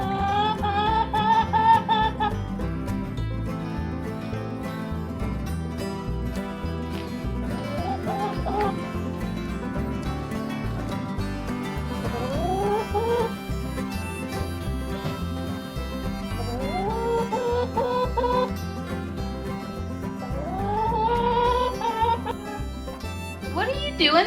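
Chickens cluck and fowl calls rise repeatedly indoors over a steady background of low noise and a warm harmonic drone, the bird sounds close and moderately loud.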